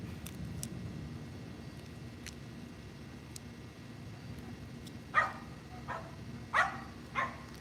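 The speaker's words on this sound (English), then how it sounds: "Now the dogs are barking." Several dogs bark in the distance, four sharp separate barks clustered in the last few seconds over a steady low background rumble.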